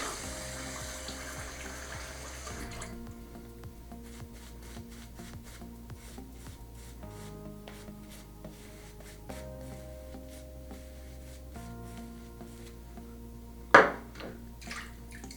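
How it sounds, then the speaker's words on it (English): A tap runs into a sink while someone rinses up after a wet shave with shaving soap. The water flows steadily and closely, and one sharp clack sounds near the end. "gonna rinse up and we'll be back for the beard cleanup"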